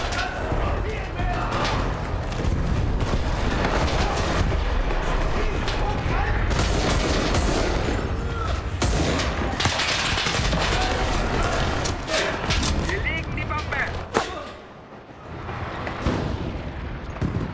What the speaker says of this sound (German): feu de l'artillerie